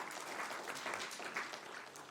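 Applause from the audience at a city council meeting, a brief steady patter of many hands clapping at moderate distance, without talk over it.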